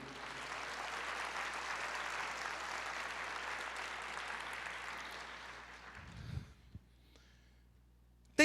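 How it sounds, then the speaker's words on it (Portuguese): Church congregation clapping praise to the Lord, a dense sustained applause that fades out near the end, followed by a few faint sounds and quiet. "aplauda ao Senhor"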